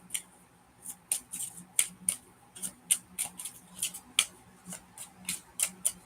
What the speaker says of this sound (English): I'm going to give them as good of a shuffle as I can